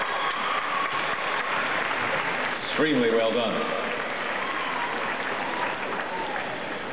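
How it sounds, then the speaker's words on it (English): Applause from an audience after the Suthiwara Ram School Band's performance at the 1999 World Championship preliminary judging: a broad, steady wash of clapping through the whole clip, with an announcer talking over it. "one more rousing round of applause for an outstanding performance"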